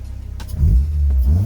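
A car engine fitted with a 72mm billet throttle body revs sharply, a loud close blip rising from idle and holding a strong, steady drone with a second push near the end.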